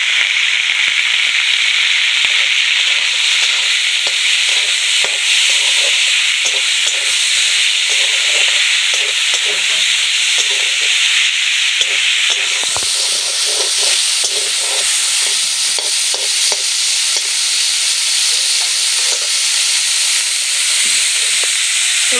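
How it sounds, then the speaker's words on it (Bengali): 250 grams of minced meat frying in hot oil, a loud, bright, continuous sizzle and hiss with crackling pops, the sizzle swelling stronger partway through. "মাংসের কিমা নিয়েছি, এটা দিয়ে দেবো গরম তেলের মধ্যে।"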